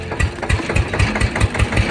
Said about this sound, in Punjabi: ਥੋੜਾ ਜਿਹਾ ਟਰੈਕਟਰ ਹੌਲੀ ਹੌਲੀ ਤੋਰੀ